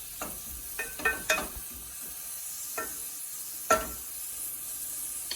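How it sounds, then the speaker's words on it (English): Onions sautéing in butter and oil in a pan give a quiet, steady sizzle, with a few sharper clicks and scrapes of stirring scattered through. "So we're gonna start by sauteing some onions."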